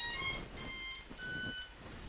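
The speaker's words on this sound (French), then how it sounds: "ça fait des bip bip" Motors on an FPV 95X quad with a decased GoPro, beeping once the LiPo battery is plugged in: three clear electronic tonal beep bursts, close and fairly loud, with no talking.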